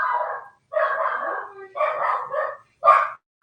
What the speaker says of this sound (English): You're gonna bark at me for leaving the damn room?